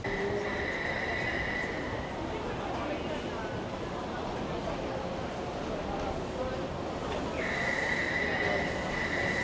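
Train in Taipei, Taiwan, rumbling steadily nearby at a busy station with passengers boarding, a high steady squeal or tone rising at the start and again near the end, continuous crowd murmur underneath.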